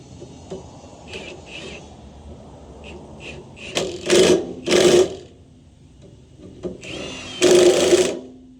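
A power tool tightens a bolt on a Jansen wood chipper in short whirring bursts, several brief and a few longer, with quiet gaps between and a faint motor tone, close by.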